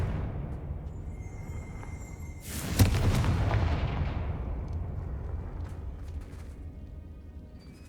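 Confringo fire spell in Hogwarts Legacy bursts in a single sudden explosive blast, followed by a long rumbling tail that slowly fades over several seconds, loud and close.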